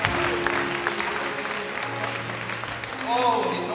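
Church congregation at a worship service in Côte d'Ivoire claps steadily throughout, a dense wash of applause with music or voices underneath and a brief swell near the end.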